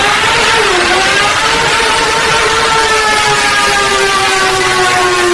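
A superbike engine runs hard on a factory dynamometer test stand during a power pull, a loud, continuous mechanical roar with rising and steady harmonic tones, heard alone without talk.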